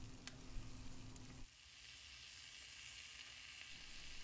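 Brussels sprouts and bacon fry over medium heat in a pan, giving a steady, close sizzle that runs without pause, dropping slightly quieter partway through, with no talking.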